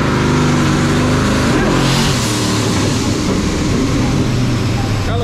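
A boosted Cadillac CTS-V roars at full throttle on a dyno, a loud, sustained rising engine howl with rumbling exhaust filling the whole stretch.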